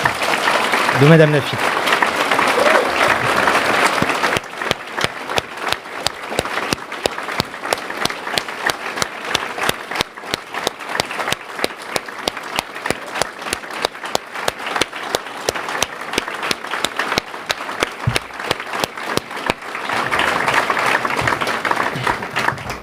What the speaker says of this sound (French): Est-ce que vous pourriez faire un tonnerre d'applaudissements pour le corps médical